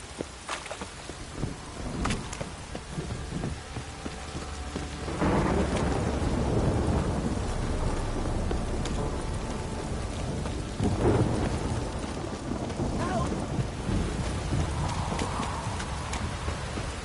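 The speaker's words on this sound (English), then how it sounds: "This downpour's a bastard, it is." Heavy rain pours steadily in the video game The Witcher 3: Wild Hunt while thunder rumbles and cracks several times, loud and close, filling the whole scene.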